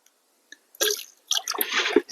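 Copper sulphate solution poured in a thin stream into slaked lime to make Bordeaux mixture: a few light drips, then close splashy trickling in two bursts, the second longer and more continuous.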